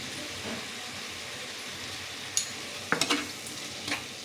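Spice paste of ginger-garlic, chopped tomato and salt fries quietly in a pan with a soft, steady sizzle, broken late on by a few sharp clinks of stirring.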